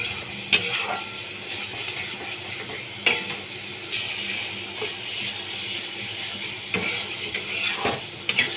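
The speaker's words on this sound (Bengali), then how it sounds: "ভালো করে মশলাগুলোকে কষিয়ে নিলাম।" Spice paste for a fish curry with shola kochu is sautéed in a pan, giving a continuous sizzle broken by occasional scraping stirs and a few sharp knocks, close up with no voices.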